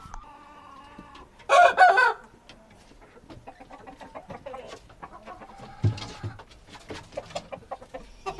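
An Arabian rooster crows once, loud and close, with scattered clucks and barnyard noises around it.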